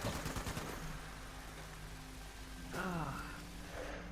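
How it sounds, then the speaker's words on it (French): Gunfire in Fallout 76 during a fight at a structure, a dense crackling burst of rapid shots at the start that fades into a steady noisy rumble, with a warbling electronic effect breaking in near the end. "Ça tire sur la structure."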